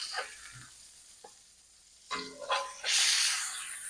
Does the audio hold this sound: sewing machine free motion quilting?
no